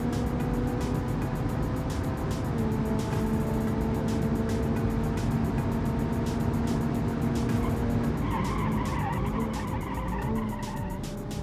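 A 300 HP lawnmower roars under hard acceleration in BeamNG.Drive, engine note holding loud and steady with tires skidding and squealing, a sharper higher tone joining near the end, no talk.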